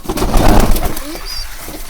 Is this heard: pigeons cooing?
yes